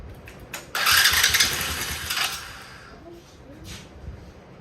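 The starter of a Tao Tao 125cc Venom ATV cranks in a loud burst for about two seconds and then fades without the engine catching, with someone talking close by.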